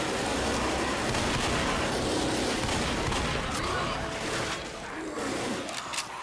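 In the Left 4 Dead video game, a Tank infected roars amid dense gunfire and chaotic combat noise, loud and continuous, easing slightly near the end.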